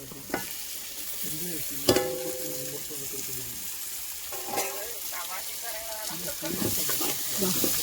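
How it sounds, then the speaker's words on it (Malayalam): Tomatoes sautéing in a pan make a continuous sizzle, broken by repeated scraping and stirring strokes and a few sharp utensil knocks, no voices. "ഇനി ഇത് നന്നായിട്ട് വഴറ്റി എടുക്കണം"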